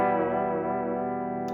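Sustained electric guitar note on a custom-built guitar, pitch wobbling gently as the tremolo bar is worked, with effects-laden tone and no talk.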